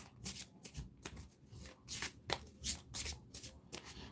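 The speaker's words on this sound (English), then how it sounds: "So monster card, I have to shuffle these." A deck of monster cards for a Tomb of Annihilation tabletop game is shuffled by hand in a quiet room, giving repeated quick riffling bursts and soft rubbing in a steady, uneven rhythm.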